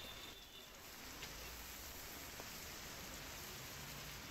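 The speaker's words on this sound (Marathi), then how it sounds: "बदलापूर शहरात गेल्या 1 तासांपासून मुसळधार पाऊस कोसळतोय" Heavy monsoon rain pours down steadily over Badlapur city, a dense, even hiss of downpour with occasional louder drips, unbroken and close throughout with no talking.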